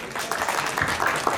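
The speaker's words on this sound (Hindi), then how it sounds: "तालियां बजाएं इनके लिए।" Brief applause from guests at a second birthday party, a soft, blurred wash of many hands clapping at an even level throughout.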